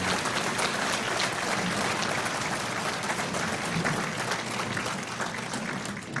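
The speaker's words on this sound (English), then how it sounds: "Let's have a round of applause for our previous inductees." Sustained audience applause fills a softball hall of fame induction dinner, dense and steady for the whole stretch with no voices rising above it.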